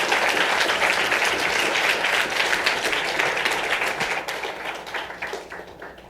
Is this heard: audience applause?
yes